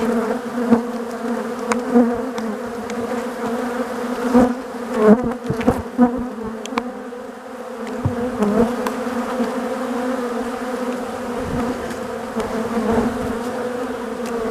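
Dense, continuous buzzing of many honey bees close up, a steady droning hum with small swells in loudness.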